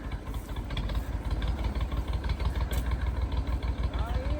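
A tractor engine idles outdoors while work goes on in the rain, with a steady low throbbing rumble close by and muffled voices faintly underneath.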